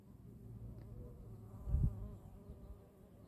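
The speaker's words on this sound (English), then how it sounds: "It's very popular already with the bees." Bees buzz around blooming anise hyssop flowers in a native plant garden, a soft low drone with one bee passing close and loudening briefly midway before drifting off.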